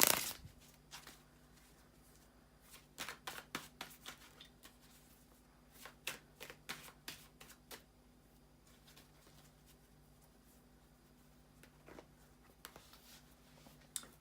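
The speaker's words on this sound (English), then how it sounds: "to shuffle the tarot cards and we can go directly into the spread" Tarot cards being shuffled by hand in irregular bursts of crisp, close riffling and slapping, with quiet pauses and a faint steady hum underneath.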